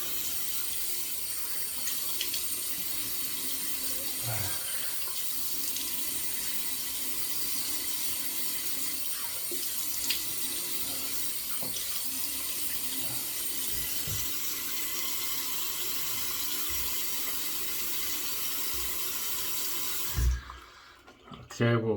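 Cold water runs steadily from a sink tap in a continuous, even hiss and splash for about twenty seconds, then cuts off abruptly, followed by a couple of brief knocks.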